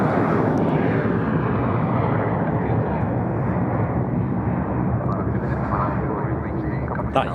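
Airplane taking off from a runway, a loud, steady jet roar close by with broad rumble that holds for several seconds and then fades slightly, with a voice faintly underneath.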